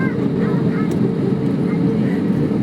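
An airliner speeding down the runway for takeoff gives a steady, loud, broadband roar heard from inside the cabin, with a person talking over it.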